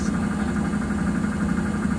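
A Miele Professional W6073AV washing machine runs a cottons 60 wash, giving a steady, close, dense mechanical hum and vibration that holds level throughout.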